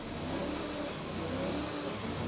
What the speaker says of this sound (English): the engine gets a good rev to make sure the Argo is alive and kicking